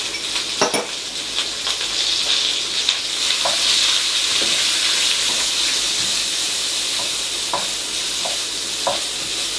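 Onion and leek fry gently in a pan over low heat, a close, steady bright sizzle with occasional soft clicks and scrapes from a utensil moving through the pan.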